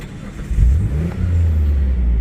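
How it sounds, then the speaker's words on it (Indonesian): A Mitsubishi GTO's 3000 cc twin-turbo V6 cranks and fires into a loud, deep idle with a quick initial rev that settles into a steady low rumble, close and alone. "langsung aja yuk kita nyalain mesin 3000 cc"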